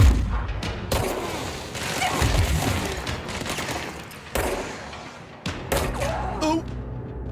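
Bursts of gunfire and heavy booms from the video game Control, dense and loud at times and broken by short lulls, with a voice talking over the shooting.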